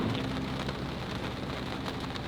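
Steady rain falls on a rainy Saturday in Marsaxlokk harbour, Malta, a dense continuous hiss of drops on surfaces, even and close, with no voices.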